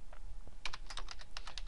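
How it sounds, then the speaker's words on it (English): Quick light clicks of typing on a computer keyboard in a spreadsheet session, a rapid irregular run of keystrokes, close and fairly quiet. "I'm going to click and then start typing."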